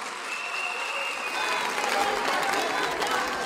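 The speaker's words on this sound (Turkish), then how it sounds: "alkışlayın kendinizi sevgili kız kardeşlerim" Applause from a crowd of women at a CHP party congress in Turkey, a sustained wash of clapping that swells slightly midway, with voices faintly mixed in.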